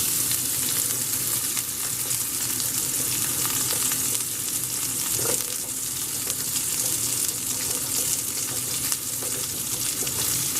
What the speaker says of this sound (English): now into that pan, we're just going to add our onion